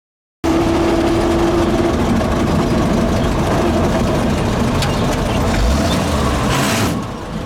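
A WWII GMC CCKW military truck engine runs steadily and loud throughout, a deep rumbling drone with a brief whine early on as the gears are shifted down, no voices over it.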